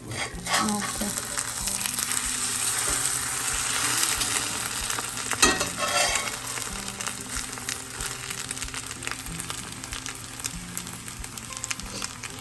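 Omelet sizzling in a hot pan on high heat, a continuous crackling fry with occasional clinks and scrapes of a utensil, close and steady throughout.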